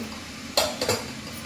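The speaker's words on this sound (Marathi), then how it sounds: "आपण कुकर उघडले" Opening a pressure cooker lid after cooking toor dal produces two quick, faint metallic clinks against a quiet kitchen background.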